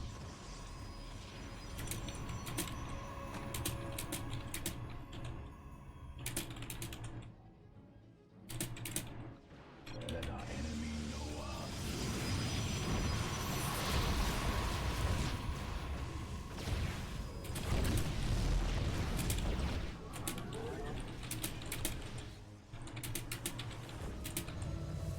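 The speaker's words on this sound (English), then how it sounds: "While I type to Locklock." Keyboard keys clatter in quick irregular bursts, close and fairly soft, mixed with a steady bed of StarCraft-style real-time strategy game sounds, including whirs and hums, over about twenty-five seconds.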